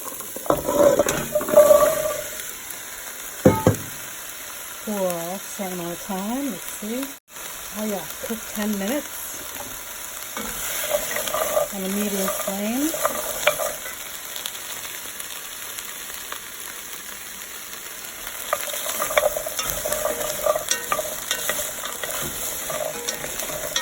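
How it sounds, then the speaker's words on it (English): Onions and carrots sauté in a tablespoon of oil in a pan, giving a steady soft sizzle with bursts of stirring and scraping, while a person talks over parts of it. "we have to saute the onions and the carrots in that tablespoon of oil"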